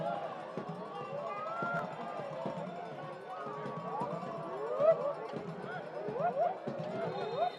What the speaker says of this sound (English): You can hear the crowd already into it,